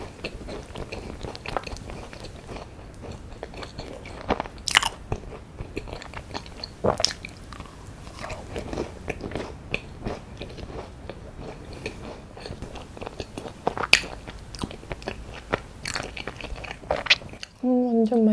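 Close-up biting and chewing of a strawberry macaron, with a few crisp bites followed by soft, irregular mouth sounds and chewing; a voice briefly speaks near the end.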